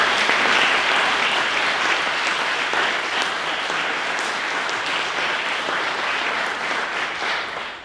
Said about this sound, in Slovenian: Lahko ji še enkrat zaploskamo.